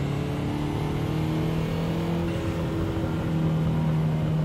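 A Ferrari in the racing game Assetto Corsa drones with a steady, loud engine and exhaust note, holding a sustained tone that climbs slightly with no voices over it.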